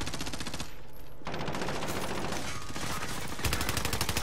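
Rapid automatic gunfire rattles in a first-person shooter, dense and close, with a brief lull before the bursts resume and a louder volley near the end.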